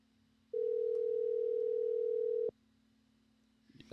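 A steady telephone tone sounds while a call is being placed, one loud sustained beep lasting about two seconds, then it stops abruptly, leaving a faint hum.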